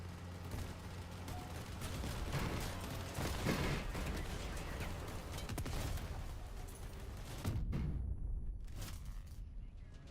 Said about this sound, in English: People just be exploding everywhere.